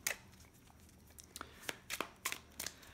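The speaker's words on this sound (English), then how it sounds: "I'm just going to give these a quick shuffle." Build a Cure board game cards are given a quick shuffle, producing a string of short, soft riffling snaps and slides, close and quiet, with no talking.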